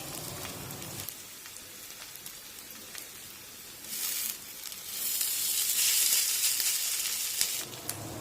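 Cabbage pancake batter frying in a pan over a low-to-medium gas flame, giving a steady soft sizzle that swells louder and brighter midway, with no voices.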